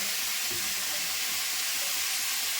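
Tomatoes fry in a pan for a chutney, giving a steady, close broadband sizzle that stays even for the whole stretch, with faint stirring or clatter underneath and no voices.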